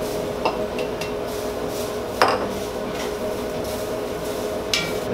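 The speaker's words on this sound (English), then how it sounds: "So let's put these potatoes in." Potatoes tumble into a hot skillet with onions, a few metallic clinks and knocks against the pan over a steady background sizzle, without speech.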